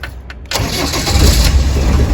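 A restored 1983 Land Rover Defender Series 3 engine starts after a half-second of quiet, catching at once and settling into a steady, loud, close rumble.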